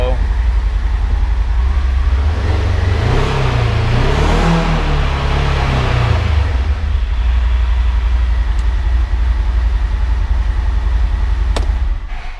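A 2019 Polaris Ranger 1000 XP North Star Edition side-by-side runs with a steady low engine drone, rising briefly in pitch midway as if revved, then settling back to an even idle.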